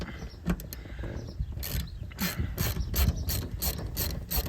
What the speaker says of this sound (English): We got the right sockets here, ratchet and all.